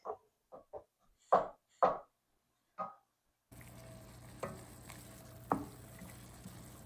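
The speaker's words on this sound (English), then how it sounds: "Okay, I'm going to add my garlic" A few sharp, isolated knocks in silence give way to garlic hitting a hot pan with a soft, continuous sizzle, punctuated by occasional utensil taps.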